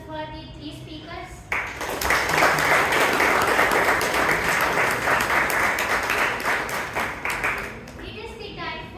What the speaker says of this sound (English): Shall we have a huge round of applause for the three speakers?